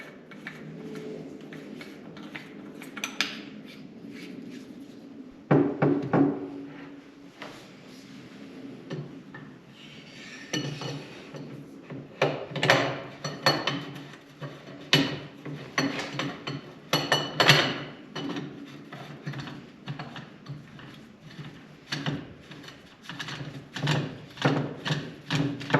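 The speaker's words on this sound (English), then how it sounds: "We'll take this thread protector off of Creedmoor barrel, put it on that 308." Small metal parts clinking and ticking as a thread protector is unscrewed from a Creedmoor barrel and threaded onto a .308 barrel of a Cadex Defence Kraken multicaliber rifle, with sharp close taps and scrapes in an uneven rhythm, no talking.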